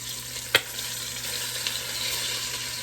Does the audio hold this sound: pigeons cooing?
no